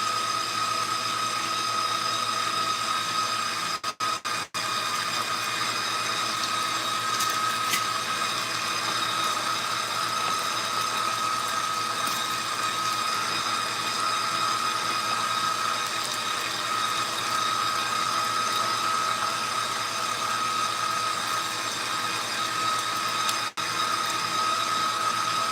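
A meat grinder works through wild deer meat during home butchering, a steady mechanical whir with a ratcheting, gear-like churn running continuously and fairly close, with a couple of brief clicks near the start.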